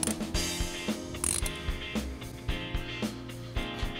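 A ratchet tightens the bolts on a VW/Audi 2.0T diverter valve vacuum block, giving a quick series of close, crisp clicking strokes in an uneven rhythm with short pauses between pulls.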